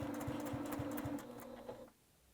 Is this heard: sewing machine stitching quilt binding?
yes